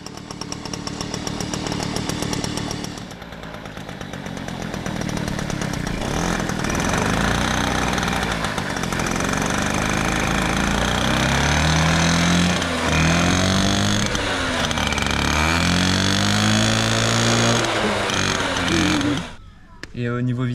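A 1960s moped fitted with its original factory Peugeot exhaust runs loud and close, its buzzing engine rising and falling through several revs for about twenty seconds before cutting off sharply near the end.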